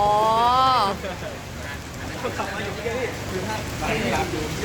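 Rain begins falling on a trip from Bangkok to Sangkhla Buri, a diffuse patter and hiss on surfaces under steady background noise, with people talking and a voice heard over it.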